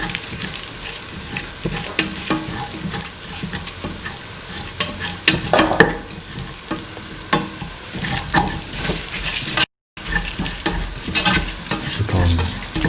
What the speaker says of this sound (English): and mix thoroughly.